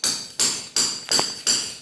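A hammer chips away bathroom floor tiles, landing five sharp, evenly spaced blows, each ringing briefly before the next. The blows are loud and close, with no talking.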